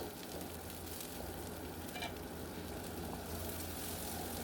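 Chopped onion frying in hot oil in a wok, giving a steady, close hiss of sizzling with faint stirring underneath and no voices.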